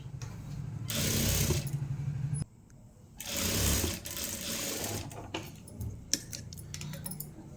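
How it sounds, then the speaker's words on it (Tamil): A sewing machine stitches a sleeve edge in two quick bursts of rapid mechanical whirring separated by a pause, followed by quieter handling clicks and rustles. "நல்லா இந்த எட்ஜில் ஃபினிஷிங் பண்ணிவிட்டு இங்கே ஒரு தையல் போட்டுக்கணும்"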